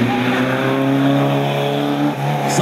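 Loud, close Škoda race car engine at the Stracinské Serpentíny hillclimb, a sustained high-revving whine that holds steady then drops briefly as the car shifts near the end.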